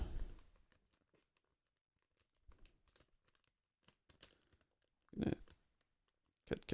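Scattered crinkly snips and clicks of scissors cutting through plastic packaging of a Gundam Wing Zero figure, quiet and irregular, with a couple of louder rustling bursts near the end.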